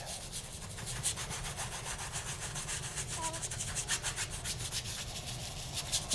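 A 1-inch brush blends paint across a seascape painting with soft, rhythmic rubbing and scrubbing strokes, close and quiet, repeating steadily without speech.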